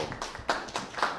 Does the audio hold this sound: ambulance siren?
no